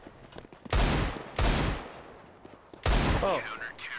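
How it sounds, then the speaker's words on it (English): Video game gunfire arrives in three loud, rapid bursts of shots separated by short quieter gaps, with faint voices in between. "he's shooting at you."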